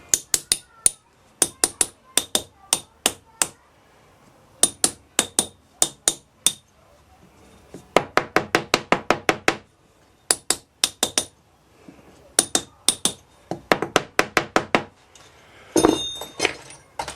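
Rapid bursts of light hard taps on a pattern set in a sand mould, rapping it loose, clicking in quick clusters with short gaps, close and crisp.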